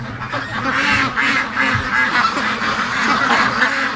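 Several free-range ducks quacking up close, loud overlapping honky calls that keep going without a break.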